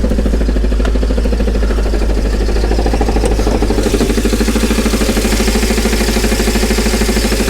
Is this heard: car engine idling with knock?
yes